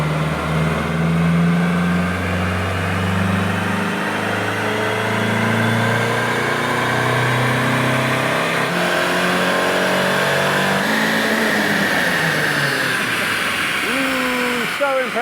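A 20-year-old Audi TT engine on a dyno run, revving hard and climbing through the gears, a loud sustained mechanical drone with rising pitch and shifts. A person talks over it.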